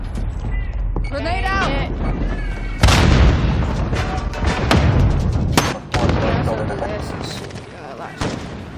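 Explosions and gunfire from the Call of Duty Black Ops video game: a loud blast near three seconds opens a run of booming impacts and sharp bursts, continuing loud throughout, with voices calling out over the combat.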